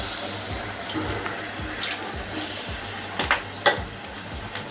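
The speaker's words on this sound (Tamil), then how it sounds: "தண்ணி தெளிச்சிட்டோம்." Water sprinkled over a ridge gourd stir-fry in a pan gives a soft, continuous splashing hiss with a few louder spatters near the end, close and moderately quiet.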